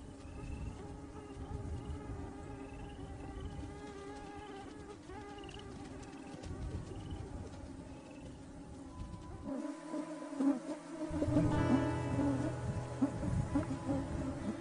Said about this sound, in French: Les moustiques sont omniprésents. Ils sont parfois si nombreux qu'ils rendent la vie presque impossible aux animaux.